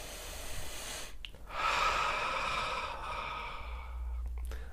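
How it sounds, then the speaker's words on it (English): One long, slow deep breath drawn in and released during a guided meditation, a soft airy rush held for a few seconds, close and quiet with no talking. "We're going to continue to let that go as we take another deep breath"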